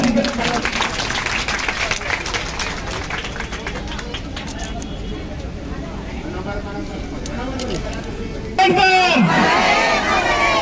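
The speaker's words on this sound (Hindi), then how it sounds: "जोरदार ताली बजाएं जरा।" A crowd of women at a Bahujan Samaj Party election campaign rally claps steadily and vigorously, the applause blending with murmuring voices until a loud amplified voice cuts in near the end.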